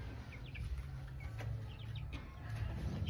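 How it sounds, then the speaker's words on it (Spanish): Backyard chickens cluck and chirp in short scattered calls over a low steady hum, fairly faint and close, with several birds overlapping. "hoy estamos aquí con nuestras gallinitas, hoy estamos aquí con nuestros pollitos, con nuestras aves"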